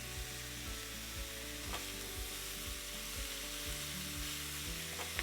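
Vegetables and potatoes sauté in butter in a pan, giving a faint, even sizzle under a low, steady background hum.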